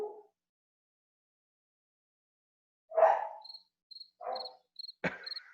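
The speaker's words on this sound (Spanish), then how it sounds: "Sonido de grillo, esperen." A cricket chirp effect from a soundboard app plays as a short run of thin, evenly spaced high chirps. It comes between brief bits of speech in a quiet room, and a single sharp click lands near the end.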